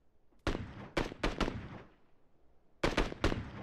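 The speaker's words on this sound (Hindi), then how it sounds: "कौन चला रहा है इधर से गोलियां" Several sharp gunshots from a battle royale video game match on a new map, a quick run of cracks, a pause, then two more close, loud shots.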